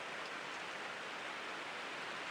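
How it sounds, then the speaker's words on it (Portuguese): Steady rain falls at a riverside lake in the Amazon, a soft, even hiss of drops spreading across the whole clip with no voices or other sounds breaking through. "E a chuva tá caindo, gente. Agorinha começou a chover."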